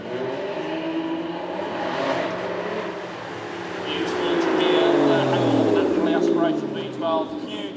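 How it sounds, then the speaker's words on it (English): A V12 Aston Martin revs at a sound-off during a supercar track weekend, its deep engine note rising and swelling loudly mid-way while a commentator talks over it. "Next then we go to our V12 Aston Martin here."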